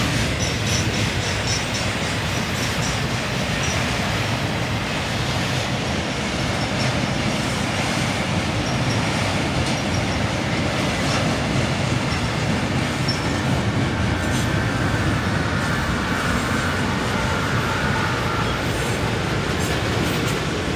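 A long CSX freight train of auto rack cars keeps rolling by at close range, a loud, unbroken roar of steel wheels with light clickety-clack and occasional thin squeal, no one speaking.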